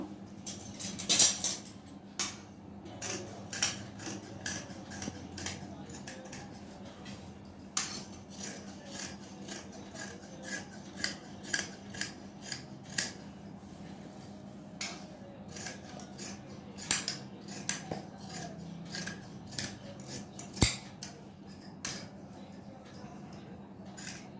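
Scissors snipping through cotton frock fabric for a teenager's short dress, a steady run of crisp, close cuts with short pauses between them, alone with no talk over them.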